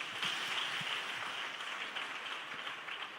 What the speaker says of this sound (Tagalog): Minsan na pa marinig yung palakpak ng napakaraming Kristiyan